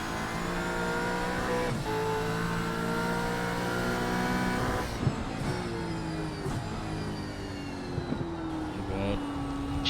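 Supercar engine heard on board for a lap at Donington Park in iRacing, revving up through gears with sharp shift drops and rising pitch, loud and close, with a voice talking over it.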